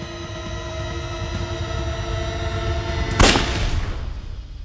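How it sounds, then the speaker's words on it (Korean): One sharp gunshot cracks out over a steady droning hum, followed by a brief fading echo. "변소 안에서 한 발의 총성이 들려"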